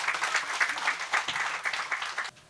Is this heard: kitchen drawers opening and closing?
no